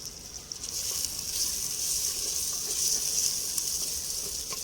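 Tomatoes sizzling as they go into a hot pan of oil for mutton handi, after crushed ginger and garlic, a steady loud hiss of frying throughout with no talking.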